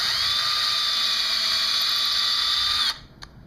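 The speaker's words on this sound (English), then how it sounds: "we also recommend that you drill out the string holes" A power drill whines steadily at high pitch while widening the string holes of a guitar bridge, reaming roughly 1/8-inch holes out toward 1/4 inch, then cuts off abruptly near the end.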